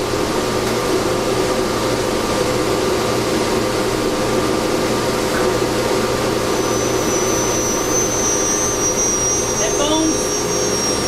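Milling machine cutting with a freshly fitted single-flute cutter during a filter build, a steady loud mechanical whine and hum with faint high tones, continuous throughout without a break.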